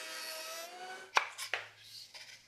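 A router with a tongue and groove bit whines down from high speed while a wooden test piece is pushed through on a router table, giving a few short, close scraping bursts.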